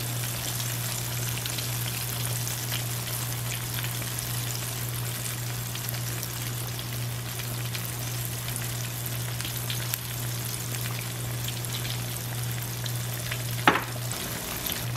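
Tilapia fries in a pan with a steady, even sizzle and a low constant hum underneath, broken only by a brief sharp tap near the end.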